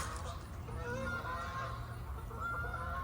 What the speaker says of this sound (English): Canadian geese on their way south.